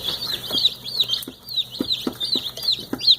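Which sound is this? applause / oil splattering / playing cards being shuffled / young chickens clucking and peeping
young chickens clucking and peeping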